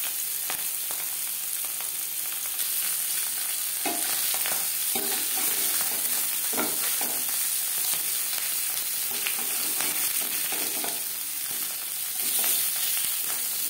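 Rohu fish pieces frying in hot oil, a continuous loud sizzle and crackle with occasional stirring scrapes and pops over the full stretch.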